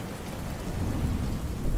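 Steady rain during a thunderstorm patters against a window, a dense continuous wash of droplets with low rumbling underneath, fairly loud and unbroken throughout.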